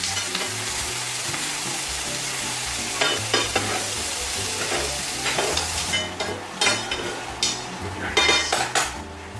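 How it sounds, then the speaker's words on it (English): A T-bone steak fries in a pan with butter, herbs and garlic, giving a steady loud sizzle with the scrape and clink of utensils basting and stirring, growing busier toward the end. "Now it's time to add our butter here and all our fantastic herbs, some garlic, in the way we finish to cook our steak."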